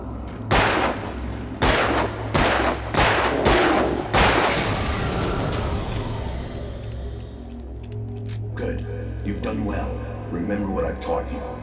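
Several loud gunshots fire from a handgun in the Alan Wake video game, a quick series of sharp blasts in the first few seconds, then a lingering rumbling ambience with game dialogue.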